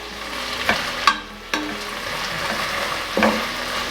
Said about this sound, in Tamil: ஒரு மீடியம் சைஸ் தக்காளி இதில் ஆட் பண்ணிக்கலாம் தக்காளி பெருசாக இருந்ததுன்னா பாதி தக்காளி விட்டால் போதும் வதங்கட்டும்